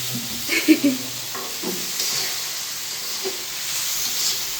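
Noodles with carrot, tomato and chopped potato being stirred and fried in a home kitchen pan give a soft, continuous sizzle and hiss, broken by a few light scrapes and knocks from the stirring.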